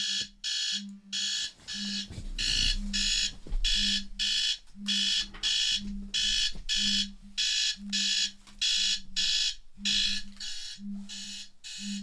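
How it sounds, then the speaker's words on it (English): A household alarm goes off on a late-November holiday, beeping in a steady repeating pattern of short electronic pulses for over ten seconds, loud and insistent, with faint background rustling and no talk. "My alarm's going off."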